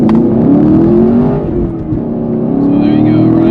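A Shelby GT350R or Camaro 1LE sports car engine revs under throttle, a loud close roar with rising and falling pitch, heard from inside the car, with a brief dip midway.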